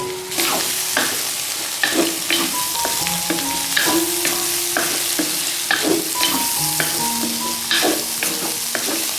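A filling of dried bamboo shoots stir-fried in a wok sizzles steadily up close while a spatula scrapes and clanks against the metal in repeated strokes.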